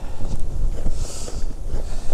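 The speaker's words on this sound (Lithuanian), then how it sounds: "Na, vėjas nelepina." Cold wind buffets the microphone outdoors, a loud, continuous rumbling roar with gusty surges and a faint hiss above, close and unbroken for the whole moment.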